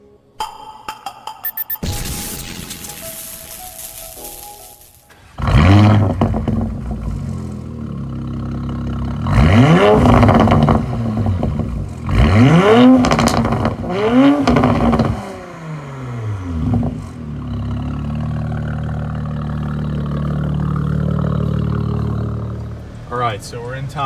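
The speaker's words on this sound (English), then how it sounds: "Let's get in this car and go on a stock drive." Porsche Macan GTS with a 2.9L V6 on stock tune accelerating hard, loud throaty engine surges in several rising sweeps heard from inside the cabin, easing to a steady cruising hum, with a voice talking over parts of it.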